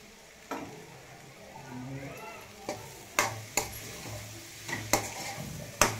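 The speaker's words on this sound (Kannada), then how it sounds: "ಒಂದ್ಸರಿ ಸಣ್ಣ ಮಿಕ್ಸ್ ಮಾಡ್ಕೊಳ್ಳೋಣ." A spoon stirs brinjal palya with ground black sesame in a pan, giving soft scraping and sizzling with several sharp clinks against the pan at irregular intervals, close and fairly quiet.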